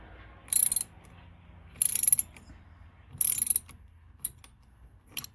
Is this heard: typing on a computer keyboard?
no